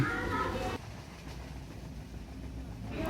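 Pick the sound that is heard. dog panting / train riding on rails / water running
train riding on rails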